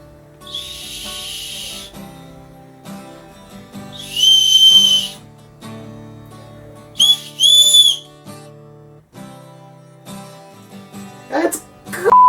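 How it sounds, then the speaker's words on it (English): A survival wristband bracelet's built-in whistle blown loudly in several shrill blasts, short then longer, separated by gaps with a sustained background tone, and a rising squeal near the end. "I'm quite curious to see how loud this whistle is"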